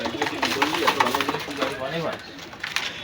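Mysore pigeons at a bird market in Gollamari, Khulna coo with low, rolling calls close by, layered over someone talking steadily.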